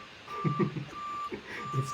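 Steady electronic reversing beeps from a truck backing up outside, a high tone repeating in long pulses, heard against background chatter and room noise.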